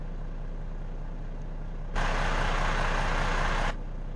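Volvo truck with a DD13 engine and Eaton 18-speed gearbox in American Truck Simulator, a low steady engine drone that swells into a louder, brighter rush for under two seconds before settling back.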